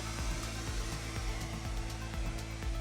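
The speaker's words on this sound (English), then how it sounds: "busy hoovering, pet hairs, you name it, it's all in there" A vacuum cleaner hoovers pet hairs out of the interior of a Jaguar F-Pace, a steady close motor roar with a whining tone and soft thumps as the nozzle bumps around.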